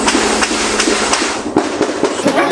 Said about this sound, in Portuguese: Na localidade do Karatê, deu para ouvir tiros de vários tipos diferentes de armas.